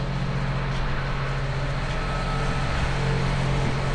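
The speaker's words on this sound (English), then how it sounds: "A little loud here, the engines are loud" Engines of an expedition cruise ship rumble on an open outdoor deck, a loud, constant low drone with a steady hum and broad wind-like noise above it, unbroken throughout and with no one talking.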